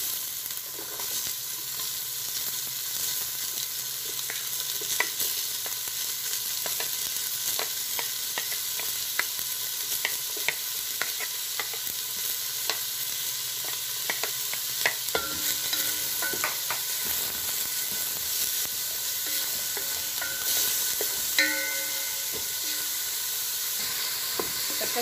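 Onion sautéing in a pan for chicken molokhia with saluyot greens, a steady close sizzle and hiss with scattered stirring clicks and scrapes running throughout, no voices.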